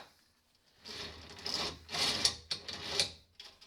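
A KFI winch line is let out on a Honda Pioneer 1000 UTV, heard as a few short, close rasping and rubbing bursts after a brief quiet start, with no talk.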